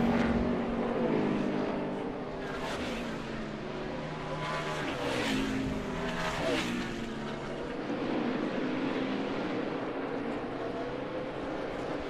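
NASCAR Cup Series race cars roar around the Sonoma road course at the Toyota / Save Mart 350 late in the race, a dense, continuous engine drone with several cars swelling past in overlapping pitch sweeps, close and loud throughout.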